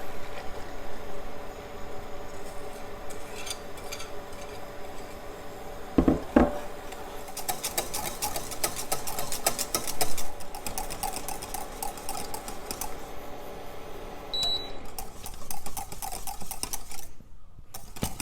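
Pastry cream for a Basque cake thickening in a saucepan is stirred, giving quiet, irregular scraping and light metallic clinks with a couple of sharper knocks midway, no voices.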